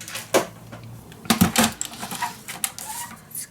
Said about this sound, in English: I'm gonna cut my page, my extra page, 1 millimeter smaller on this side and 1 millimeter smaller on this side